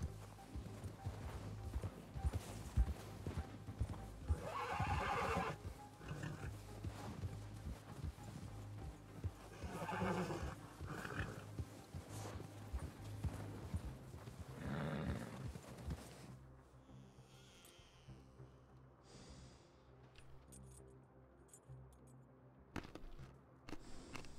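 Horses in the RedM roleplay game, out in the Tempest Rim area, neighing with clip-clopping hooves over steady ambient game noise, with a few louder bursts before things quieten.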